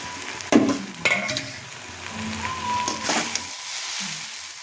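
Chow mein sizzles and is tossed in a pan with tomato sauce and egg. A steady frying hiss runs under a few sharp spatula scrapes and clatters near the start and middle.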